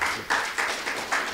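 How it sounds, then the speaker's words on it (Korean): Welcoming applause at an environmental policy symposium in Korea, a short burst of audience clapping in uneven pulses, fairly close and loud, without speech. "다 함께 환영의 박수를 부탁드립니다"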